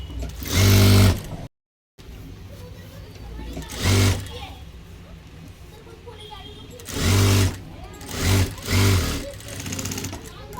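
Sewing machine double-stitching a blouse sleeve, running in short whirring bursts of about a second each with quiet gaps between, close and loud.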